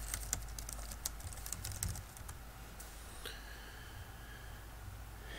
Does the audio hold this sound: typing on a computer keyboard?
yes